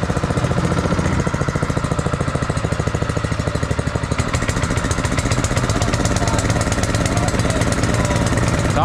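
A small engine-driven water pump runs loud and steady at night, its rapid mechanical chatter constant throughout and changing slightly in tone partway through.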